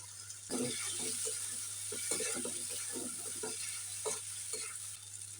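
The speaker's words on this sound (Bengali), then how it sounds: "মশলাটাকে ভালো করে কষে নিচ্ছি" Spice masala fries in a pan for a fish Manchurian gravy while being stirred. A quiet, even sizzle carries repeated soft scraping strokes from the spoon.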